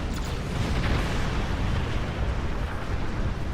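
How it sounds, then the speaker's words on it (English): A dense, rumbling starship explosion from the Star Trek Online space combat game, a sustained loud roar of bursting booms with no pauses, steady and powerful for its whole length. "I can take down one ship per explosion"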